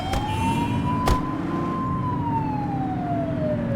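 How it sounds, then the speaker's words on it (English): Police car siren in the video game The Precinct, a steady wailing tone that rises and slowly falls, loud and close, with a brief sharp transient near the start and a low engine-like rumble beneath. "You're only meant to use the siren in emergencies."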